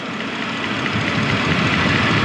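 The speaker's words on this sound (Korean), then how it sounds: "유압이 작동하는 소리가 나는데?" Steady mechanical whirr and hum from the hydraulics and engine bay of a 2013 Equus VS500 with a V8 engine, continuous broadband noise with a faint pulsing quality, close and even, no voices.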